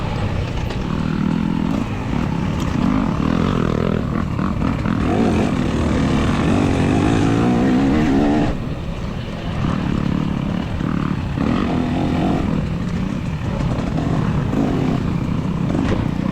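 Race car engine roar that rises and falls steadily, with a brief dip midway, heard close and loud throughout, at a race at Oak Ridge.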